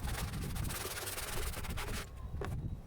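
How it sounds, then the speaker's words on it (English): An electric sander grinds steadily against a wooden cabinet with a continuous rough, rasping hiss that eases slightly near the end. "Your sanding pads will also load up with junk as you're doing it"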